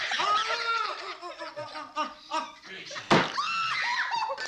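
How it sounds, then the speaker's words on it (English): A scream from a played scene of the holiday film A Christmas Story, a sharp loud burst cutting through laughter and chatter from several people, with harmonic vocal sounds before and after. "That scream. I mean, it's so real."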